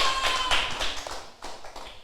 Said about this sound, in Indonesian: Ayo tepuk tangan Kak Owin.